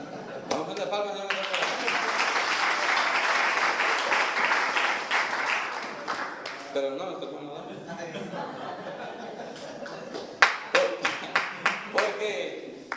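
A church congregation claps along, a broad wash of hand clapping with laughter and chuckles mixed in, then easing off as a preacher talks over it, with a few sharp rhythmic claps near the end.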